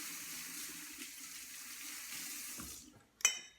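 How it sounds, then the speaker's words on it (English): Hands being rinsed under a running kitchen tap while dried strawberries are prepared: a steady, close water hiss that fades out, ending with a brief sharp clatter. "I'm going to rinse my hands."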